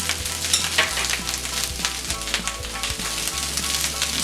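Rice with red chili powder is stir-fried for street-style chicken Schezwan rice, giving a loud, constant sizzle with rhythmic scraping and tossing strokes close up and no speech.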